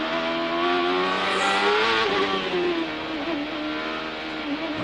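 CART race car engine at 2002 Monterrey qualifying, a loud, close, high-revving scream whose pitch climbs and drops sharply through sequential gear shifts, with faint tire squeal.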